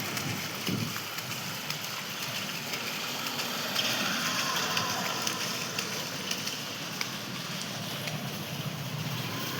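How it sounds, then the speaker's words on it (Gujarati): Heavy monsoon rain pours over Surat, a dense, unbroken hiss of downpour holding steady throughout with occasional louder spatters, heard without any talking. "તો સલંગ 3 દિવસથી આવો વરસાદ પડે છે।"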